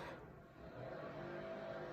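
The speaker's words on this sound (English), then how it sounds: "now we've got the mowing going on outside" A lawn mower running outdoors, heard from inside as a faint, steady motor hum with a continuous tonal drone, distant and low in level, with no talking.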